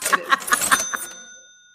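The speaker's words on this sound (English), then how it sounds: "Hit them with the money chime." A bright cash-register money chime sound effect rings out in a quick rattling burst of metallic dings, then a clear bell tone lingers and fades.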